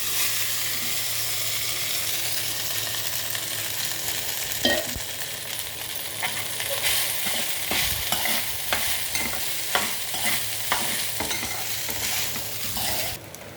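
Rice mixed with tamarind pickle frying in a pan of tempering and being stirred, with a steady sizzle beneath repeated scraping and clinking strokes of the spoon, close and fairly loud.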